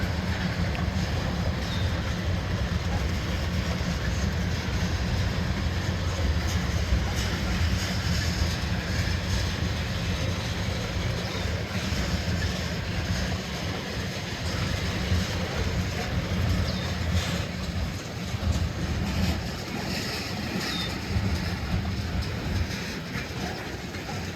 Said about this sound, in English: Wow, it's a big train.